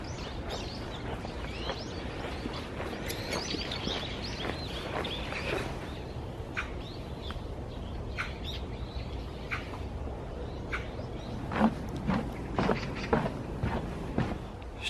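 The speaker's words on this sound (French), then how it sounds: "il y a plein d'oiseaux" Numerous birds chirp and tweet outdoors, short calls scattered throughout over a steady background hiss, some calls nearer and louder toward the end.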